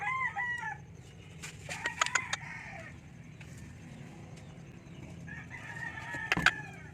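Texas chickens, a breeding hen and rooster, heard nearby with several loud crowing calls and clucks rising over a low background hum, quieter gaps between the bursts.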